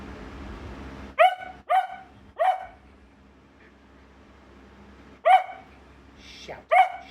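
A ginger dog gives short, sharp barks, near and fairly loud, in two clusters: three quick barks, a pause, then two more over a quiet background hum.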